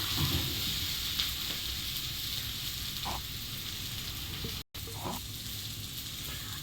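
Bitter gourd frying in a pan gives a steady, close hiss of sizzling oil with a few soft stirring knocks and one very brief dropout near the end, no voices.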